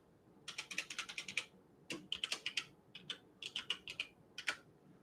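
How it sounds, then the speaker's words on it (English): Rapid typing on a computer keyboard, close and clear, in several quick bursts of clattering keystrokes separated by short pauses, with no talking. "Let me just type that."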